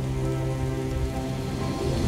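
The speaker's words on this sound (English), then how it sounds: "Storms are fiercer and more prominent, with its intensity fully reinforced by new rain and thunder audio" Rain from the Skyrim Azurite Weathers mod storm, a dense, steady downpour drumming on surfaces with a low rumbling undertone, loud and unbroken with no talking.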